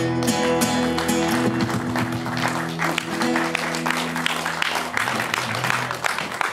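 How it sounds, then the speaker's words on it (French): An audience, mostly women, applauds: a dense, continuous wash of clapping that stays loud and even throughout, with some voices mixed in. "Je vois que c'est surtout mesdames qui applaudissent."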